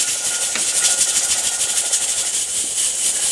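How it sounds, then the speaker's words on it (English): A pressure cooker on an electric stove hisses steadily with steam while its little weight jiggles and rattles in a fast, continuous flutter, loud and close throughout with no voices. "the little weight is starting to rattle around a bit"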